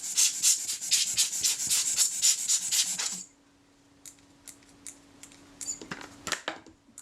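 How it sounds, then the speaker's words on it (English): Up close, the frame counter on a partly disassembled Kodak Retina IIIC camera is turned, giving a quick run of rhythmic scraping ratchet-like rasps that stop abruptly, then a few faint ticks and small clicks. "I'm just checking the action of that frame counter"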